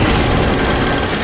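A mobile phone rings loudly and continuously in a short, close burst, with no voices over it.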